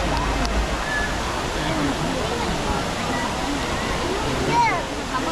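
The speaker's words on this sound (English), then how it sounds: "Waterfall." Steady rushing roar of a waterfall fills the whole clip, dense and continuous, with faint voices and crowd noise mixed underneath, at SeaWorld San Diego.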